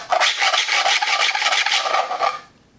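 A 3D-printed Nerf Apollo pump-action blaster grip rasping as it is primed: loud, shrill plastic scraping in a rapid run of strokes for over two seconds, then stopping.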